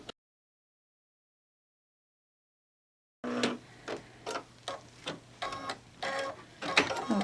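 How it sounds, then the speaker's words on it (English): An embroidery machine stitches paper piecing in the hoop, sounding as a run of rapid mechanical ticking bursts with short pauses, fairly close, after a few seconds of silence. "I'm going to stitch this end."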